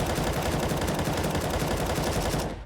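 Sustained automatic-rifle spray in Counter-Strike during recoil-control practice, a dense rapid stream of close, loud shots lasting nearly three seconds before cutting off.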